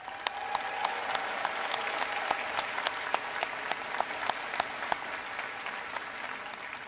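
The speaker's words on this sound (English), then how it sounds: "Let's acknowledge them and their contributions with a round of applause" A commencement audience applauding steadily, with individual sharp claps standing out over a dense wash of clapping that carries on throughout.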